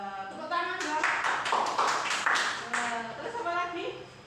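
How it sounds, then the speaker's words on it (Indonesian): Children clapping their hands in a classroom during a Catholic religious education lesson, a burst of quick claps in the middle, with a teacher's voice talking before and after. "Wah, tepuk tangan dong."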